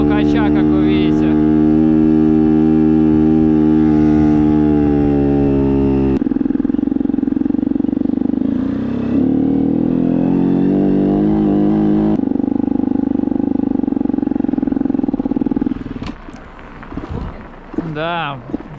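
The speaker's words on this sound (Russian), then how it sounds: "Тарахтит просто, я газ даю на холостых." A Kayo Pro Daytona 190 motocross bike engine rattles and drones at idle with throttle applied during a winter push start, a loud steady engine tone that shifts pitch, with people talking over it.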